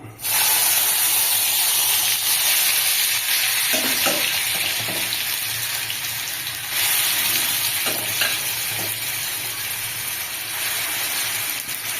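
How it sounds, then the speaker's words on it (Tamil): Pumpkin pieces for halwa sizzle loudly in a hot pan while being stirred, a steady bright frying hiss with a few scraping stirs partway through. "அதனால் இப்போ இந்த பரங்கிக்காய் அதில் போடணும்."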